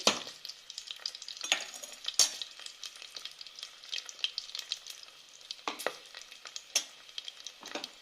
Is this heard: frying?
yes